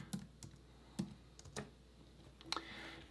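Sparse, soft keystrokes on a computer keyboard, a handful of separate taps close to the mic at a quiet level, ending in a short cluster of clicks, with no voices.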